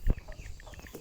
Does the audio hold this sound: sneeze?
no